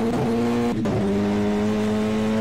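A Renault Fluence Super TC2000 race car downshifting to second, its engine holding a loud steady tone, briefly dropping with a quick gear change and blip, then resuming a strong drone close to the microphone.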